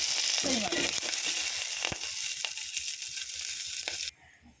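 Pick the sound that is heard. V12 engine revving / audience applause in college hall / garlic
garlic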